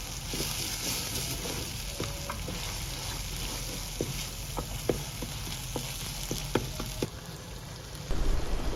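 Onion and tomato paste masala fries in a pan for a village-style dish, a steady close sizzle and crackle with scattered sharp spatters and a few utensil clinks, moderately loud and alone.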